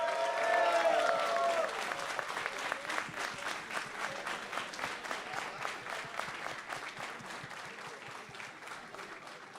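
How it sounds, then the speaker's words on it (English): Crowd at a tournament grand final claps steadily, loud at first with a brief voice over the opening, then the applause slowly thins and fades across the stretch. "Keep clapping, please"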